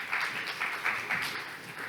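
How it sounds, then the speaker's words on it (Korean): An audience at a sports startup demo day claps to welcome the next company's presenter to the stage, with faint, distant, steady applause that rises and falls slightly over a couple of seconds. "큰 박수로 맞이해주시기 바랍니다."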